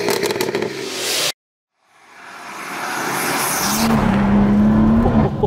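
A 700bhp manual BMW M140i with a B58 engine cuts out briefly, then rises into a loud, building acceleration roar with a steady engine tone and rising road and tire noise, up close and alone.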